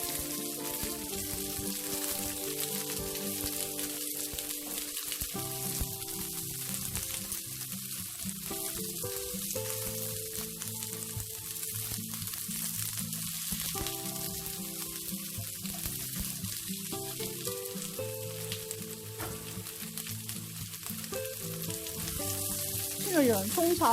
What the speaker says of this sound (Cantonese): 就落我哋嘅洋葱